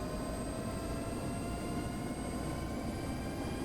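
Black Hawk helicopter engines in DCS World with throttles moved to the flight position, a dense continuous whine and rumble with steady high turbine tones, constant and fairly distant in level.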